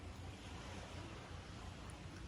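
Steady roar of surf washing onto a shore, a continuous broadband rush with no distinct breaks, wind adding to the hiss.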